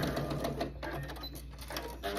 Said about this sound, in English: Here we are at the end of our first row being sewn together to the second row.